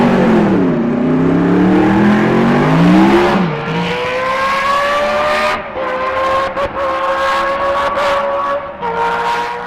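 A Formula 1 V6 turbo racing engine whines and revs loud and close, its pitch sweeping up and down through gear changes before settling into a sustained high drone.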